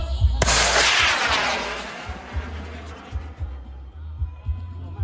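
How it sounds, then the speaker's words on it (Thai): A bamboo rocket launched at a Bun Bang Fai festival in Sakon Nakhon, Thailand, ignites with a sudden loud roaring whoosh that fades over a few seconds, followed by repeated low thumps amid crowd noise. "ต่อไปเราจะปล่อยบังไฟเบอร์ 178 นะครับ"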